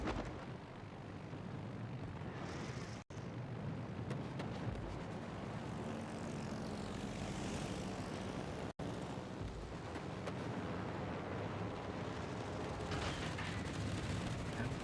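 Fighter aircraft engines in the naval combat game World of Warships Legends make a faint, steady droning roar that runs throughout, broken by two abrupt, momentary dropouts.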